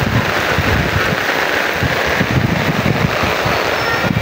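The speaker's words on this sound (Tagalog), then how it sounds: "Ayan, lumakas ng ulan dito." Heavy rain pours down in Biliran, a dense, loud, continuous hiss and patter with low rumbling underneath, steady from start to end with no voices.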